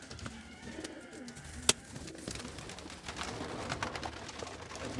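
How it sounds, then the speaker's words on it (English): Pigeons raised for food coo softly in a low, repeated rhythm, with a few sharper bird calls and a brief knock amid quiet background noise; no talk. "We have our 2 pigeons here, and these are gonna be dinner"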